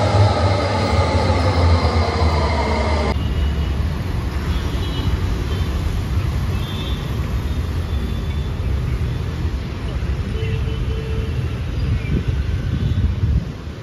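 A Bangalore metro train rides along with a continuous rumbling roar and wind-like rush that stays loud and steady, shifting tone slightly a few seconds in.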